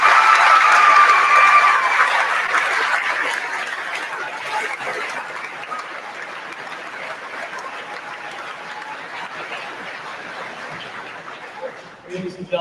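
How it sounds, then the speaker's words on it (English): A graduation ceremony audience at Nipmuc Regional High School applauds the salutatorian, starting as full, dense clapping and slowly thinning into scattered claps that fade toward the end. "Please join me in a round of applause for salutatorian Miss Stephanie Hall"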